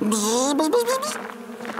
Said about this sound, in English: Why, hello, little bees.